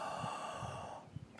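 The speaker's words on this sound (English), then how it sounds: "Full breath, everything you can take in." A person takes a full, deep breath in during a breathing exercise, a long steady airy inhalation heard close and alone.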